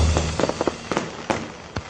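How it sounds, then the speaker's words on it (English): Fireworks going off outside, a string of sharp irregular bangs and crackles spread over a couple of seconds, moderately distant, with a faint rumble between bursts. "Yeah, I hear the fireworks."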